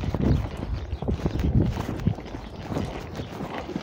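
A ridden horse at a training school steps along with steady clip-clopping hooves close by, a continuous rhythm of thuds on the ground.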